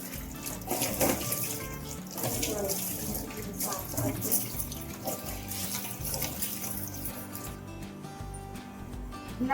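Tap water runs steadily into a sink while dishes are washed, a continuous close splashing gush with occasional clinks of utensils underneath.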